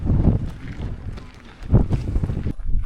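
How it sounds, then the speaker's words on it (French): Strong wind buffets the microphone high on Huayna Potosí in the Andes, around 5200 metres, a continuous loud roar with gusty swells and brief lulls. "Il y a beaucoup de vent."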